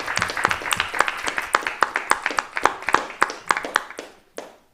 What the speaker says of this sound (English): So I would say a round of applause for what exists currently right now.